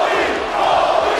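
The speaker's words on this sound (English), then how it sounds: "The crowd also got behind Foley during his stumble as they chanted his name." A wrestling arena crowd chants a wrestler's name during a live broadcast, a loud, sustained roar of massed voices filling the hall without a break.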